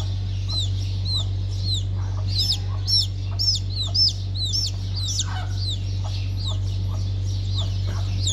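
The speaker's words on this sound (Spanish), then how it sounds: "Hay un gallo con el pescuezo pelado" A naked neck rooster clucks again and again in short, rising calls over a constant low background hum.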